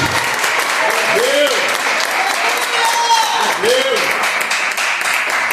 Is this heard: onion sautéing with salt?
no